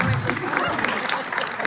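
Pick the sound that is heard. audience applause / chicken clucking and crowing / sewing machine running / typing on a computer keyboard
audience applause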